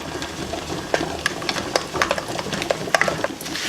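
Homemade dog paw balm mixture stirred by hand in a cup, with a run of light, irregular scraping and clinking taps against the container over a soft, steady background hiss.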